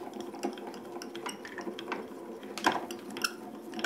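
A die-cutting machine rolls craft dies through for a card project, producing close, soft mechanical grinding and ratcheting with irregular clicks and small clacks.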